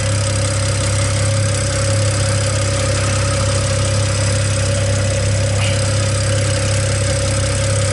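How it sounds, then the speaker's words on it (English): A BMW Z4 E89 with the N54 engine idles close by in a steady, even drone. A fine, continuous ticking from the high pressure fuel pump runs beneath it. "That ticking is actually the high pressure fuel pump."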